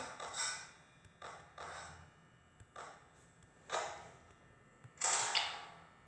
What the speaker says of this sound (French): verrouille les portes, c'est la dernière